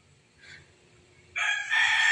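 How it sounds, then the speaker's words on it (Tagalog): A rooster crows loudly near the end, a strong drawn-out call rising out of quiet after a brief faint earlier cluck, heard alone with no talking, around a pool where diving is under way. "Nagpapasaway na naman ang hamal na manok."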